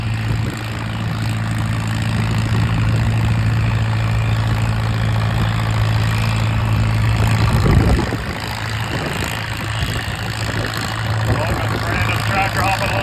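A pulling tractor's engine roars loud and steady at a tractor pull on soft ground, a deep droning rumble with a brief surge near the end before settling back, while a commentator talks over it.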